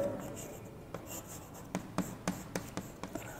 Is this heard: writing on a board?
yes